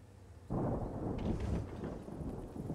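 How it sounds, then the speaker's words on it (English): Thunder in the World of Tanks battle game, a deep rolling crack that breaks in loudly and rumbles on with a steady hiss like rain beneath it. "You're right, Haakon, the lightning does sound real."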